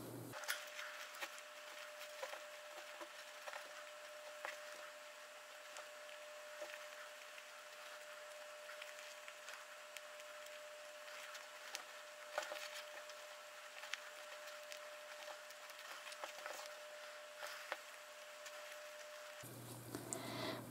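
A sewing machine stitches the pieces of a plush wolf toy, giving a steady, quiet motor whir with a faint tonal hum and light ticking from the needle, running continuously for about twenty seconds with no talk.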